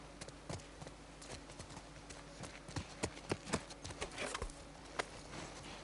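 Horse hooves clip-clopping in the video game The Last of Us Part II, a steady run of close, distinct hoof strikes growing louder and denser toward the end, with no talk over them.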